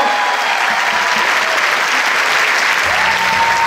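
A cinema audience applauds at a film premiere at the Grand Rex in Paris, a steady, dense wash of clapping that fills the whole stretch at full loudness with no voices breaking through.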